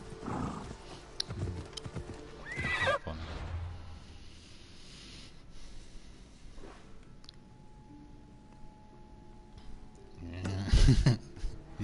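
A horse in the video game Assassin's Creed whinnies and snorts amid clopping hooves, with bursts of activity at the start and end and a quieter stretch between; voices talk briefly.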